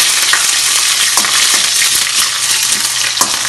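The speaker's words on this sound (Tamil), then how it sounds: "வடகம் நல்லா பொரிஞ்சிட்டு இப்போ வந்து நம்ம பூண்டை போடுவோம்." Garlic frying in hot oil alongside vadagam in a pan for a fenugreek-leaf shrimp curry, a loud, dense, continuous sizzle with scattered crackles and stirring clinks throughout.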